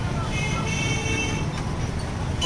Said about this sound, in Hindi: ये हॉर्न बजाता हुआ भाई साहब बंद नहीं कर रहा है।